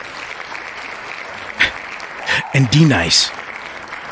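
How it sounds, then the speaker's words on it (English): Applause for Jimmy on a podcast, a bed of steady clapping running throughout, moderately loud and close, with a voice speaking over it near the end. "Hand claps for Jimmy."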